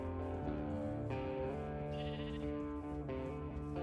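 A sheep bleats in the video game Minecraft, a loud wavering bleat repeated several times in quick succession, close and alone without talk.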